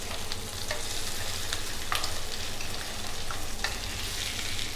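Mutton chops fry in a hot pan with continuous loud sizzling and crackling, broken by occasional sharp spits and pops.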